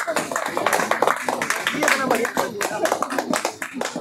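A crowd claps together through a class 12 chemistry lecture, a dense and continuous patter of many hands, fairly close and loud with no speech over it.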